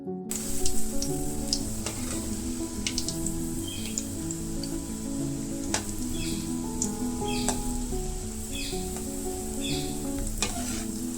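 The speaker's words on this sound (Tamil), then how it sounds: "இப்போ எண்ணெய் சூடாகிடுச்சு வடையை வறுத்து எடுத்துக்கலாம்" Vada batter fries in hot oil, a continuous dense sizzle with popping bubbles close by, alone and even in level, with faint chirps of birds in the background.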